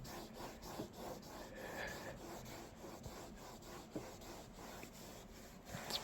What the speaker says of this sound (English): It's pretty crazy how it just wipes that crud right out of there.